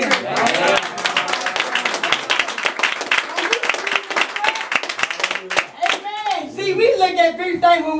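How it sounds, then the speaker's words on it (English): A church congregation claps in a quick, steady rhythm, the sharp hand claps loud and close, while voices call out and speak over the clapping toward the end. "I want you to clap like you got victory"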